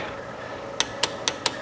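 Torque wrench on a 1971 VW engine gives four sharp metallic clicks spaced about a quarter second apart, close and distinct over a quiet room.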